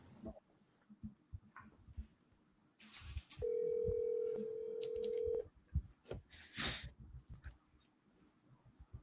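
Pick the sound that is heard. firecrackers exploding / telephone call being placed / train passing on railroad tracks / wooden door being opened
telephone call being placed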